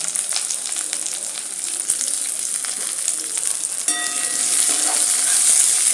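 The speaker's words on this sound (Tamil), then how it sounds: "இப்போ அந்த எண்ணெயில் வெங்காயத்தை சேர்த்துடலாம். வெங்காயத்தை கொஞ்சம் வதக்கிடுவோம்." Onions sautéing in hot oil in a South Indian kitchen, a steady bright sizzle throughout with a few stirring scrapes and a brief clink near the end, close and continuous without talk.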